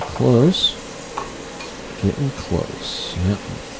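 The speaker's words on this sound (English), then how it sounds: "Stir up those fries." French fries frying in hot oil while being stirred, a sizzling background punctuated by scraping stir strokes, with a voice speaking briefly over it.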